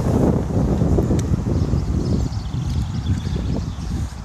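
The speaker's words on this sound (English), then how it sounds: "it's a little bit windy and there's a little bit of moisture in the air" Wind buffets the microphone on an outdoor walk around Orrell Water Park and Longshaw, a loud low rumbling gusty noise that swells and eases without talk.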